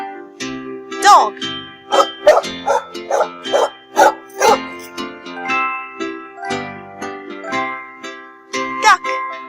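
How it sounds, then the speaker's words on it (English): A playful dog barks in a quick run of yips and bow-wows, a dozen or so sharp, close, fairly loud barks in an uneven rhythm with short gaps, heard alone. "dog"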